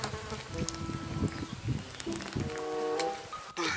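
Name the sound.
flies buzzing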